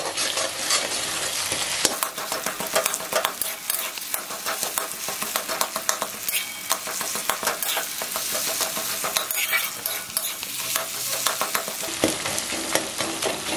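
Cracked eggs fry in a pan for homemade chowmein while a spatula breaks them into small pieces, giving a steady sizzle under repeated scraping and tapping against the pan.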